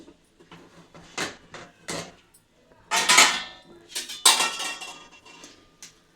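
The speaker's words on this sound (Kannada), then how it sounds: "ಇವಾಗ ಕುಕ್ಕರ್ ಮುಚ್ಚಳ ತೆಗಿತಾ ಇದ್ದೀನಿ" A pressure cooker lid is lifted off after the whistles on a mushroom and vegetable biryani, with several close metallic clanks and rattles in short bursts separated by quiet gaps.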